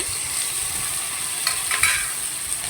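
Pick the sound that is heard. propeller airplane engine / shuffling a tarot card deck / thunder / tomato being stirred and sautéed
tomato being stirred and sautéed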